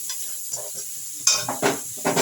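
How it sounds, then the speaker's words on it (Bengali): Onions are stirred in hot oil with spices in a kadai, giving quick spatula scrapes and clinks against the pan over a soft, intermittent sizzle, close and fairly quiet. "পেঁয়াজটা আগে একটু নেড়ে নেবেন, ওই তেলেতেই ওই মশলাগুলোও কড়াইতে আছে"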